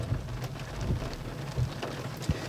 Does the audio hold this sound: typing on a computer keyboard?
no